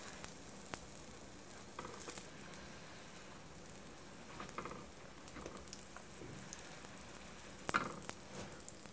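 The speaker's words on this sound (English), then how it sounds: "it's time to flip them over and brown them on the other side" Arepas frying and browning in a pan, giving a steady soft sizzle with light crackles and a few louder pops, close and fairly quiet.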